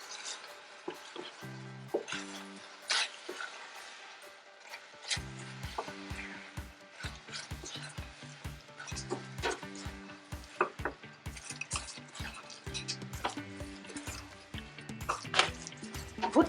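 Coconut caramelizing in a pan gets stirred, with soft sizzling and repeated utensil scrapes and knocks against the pan, fairly quiet and up close.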